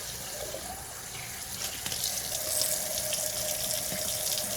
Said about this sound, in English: Let's start with our bottles. I'll just rinse it out like that.